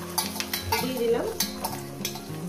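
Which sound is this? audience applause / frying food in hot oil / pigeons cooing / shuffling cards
frying food in hot oil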